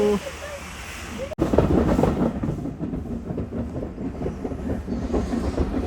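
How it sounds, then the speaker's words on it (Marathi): A 150-year-old steam train on the Isle of Wight railway pulls away from a museum station, a loud continuous low rumble and rhythmic chuffing building after a brief gap, with no voices over it. "आणि आपली ट्रेन निघाली आहे मित्रांनो"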